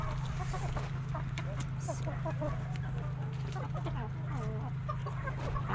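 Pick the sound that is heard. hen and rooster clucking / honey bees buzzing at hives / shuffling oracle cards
hen and rooster clucking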